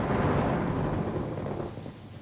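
Storm noise fills the short stretch: a dense, loud rumble of rain and wind with thunder behind it, fading a little toward the end and carrying no voices.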